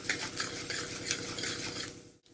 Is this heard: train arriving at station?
no